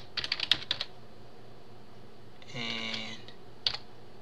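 Close keystrokes on a computer keyboard as a command is typed: a quick burst of clicks, a pause with a brief spoken word, then a couple of final taps.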